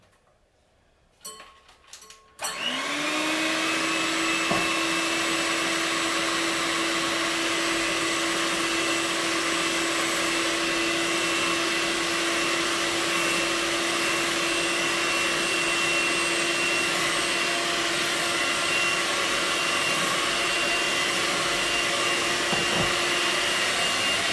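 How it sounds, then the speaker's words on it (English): An electric mixer starts up and whisks egg whites for macarons while hot syrup is added, a loud, steady whine running unbroken for over twenty seconds after a few clicks at the start. "we're going to gradually add that while I'm whisking"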